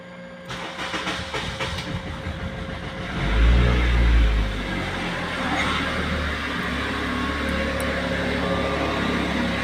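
A Honda Civic engine runs steadily after a spark plug replacement that cured a misfire, a smooth even idle with a brief louder rise near the start, no voices over it.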